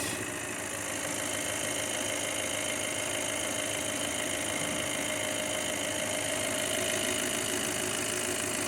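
A 2019 VW Passat 2.0 TDI SE DSG estate diesel idling with the bonnet open, a smooth, even mid-pitched rumble with light diesel clatter, steady and close with no voices.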